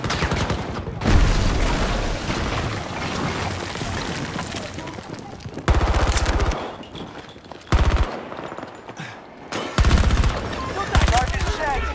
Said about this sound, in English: Incoming fire. I'm taking fire.